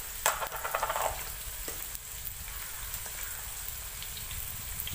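Turmeric, garam masala and spice powder sizzle in hot oil in a pan for a fish curry as a spoon stirs them, giving a steady crackling hiss with a brief scraping burst near the start.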